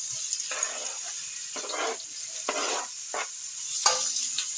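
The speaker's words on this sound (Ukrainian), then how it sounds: "наливаю рослинну олію і відправляю покришену цибульку на сковорідку. Вона вже розігрілася." Chopped onion sizzles in hot vegetable oil, with repeated bursts of crackling as it is stirred around the pan, close and steady.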